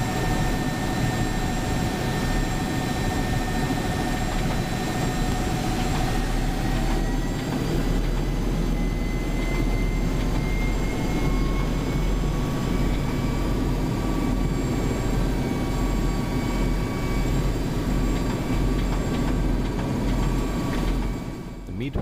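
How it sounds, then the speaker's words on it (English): Mil Mi-26 heavy helicopter engines warming up before takeoff at Lipki Air Base, a loud continuous turbine roar with a deep rumble and steady whining tones that slowly shift in pitch, filling the whole stretch without pause. "just a bit more time needed for heating up the engines until we get the clearance for takeoff"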